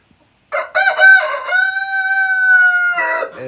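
A rooster crows once at bedtime, loud and close, a long drawn-out cock-a-doodle-doo rising then holding steady before trailing off.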